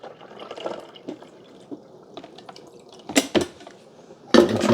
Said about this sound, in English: Pouring the water.